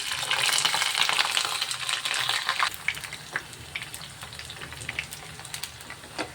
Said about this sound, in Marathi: आता आपलं तेल गरम झालंय. आपण आता फ्रेंच राईस तळून घेऊया.